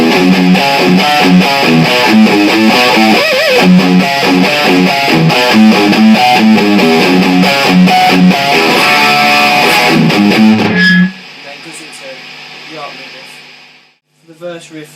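Distorted electric guitar plays a full riff for about eleven seconds, loud and chugging with sustained chords, then cuts to a quieter fading tail before a brief noise at the end.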